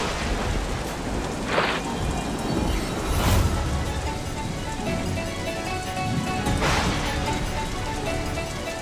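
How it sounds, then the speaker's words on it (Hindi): Heavy rain pours steadily and loudly, with a dense broadband hiss filling the whole stretch and a few brief brighter splashes or rumbles rising above it; no one speaks. "ये वर्षा कोई सामान्य वर्षा नहीं, अवश्य कोई अनिष्ट होने जा रहा है।"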